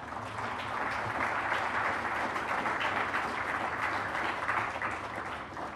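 Audience applause at the Sankalp Social Enterprise Awards 2012 ceremony, steady dense clapping from a large crowd sustained throughout without pause.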